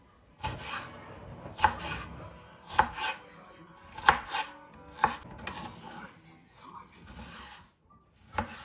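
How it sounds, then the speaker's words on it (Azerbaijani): A knife chops green peppers on a board while preparing an Azerbaijani vermicelli dish: six or seven crisp, fairly close strikes come at an uneven pace, with softer rustling and handling between them and no speech. "Soğanı doğradıktan sonra yaşıl biberlerimi de bu formada doğrayıram."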